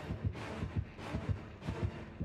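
The heartbeat warning from the horror game Dead by Daylight thumps loudly in a steady double-beat rhythm, four or five deep pulses repeating about every half second with nothing else over them.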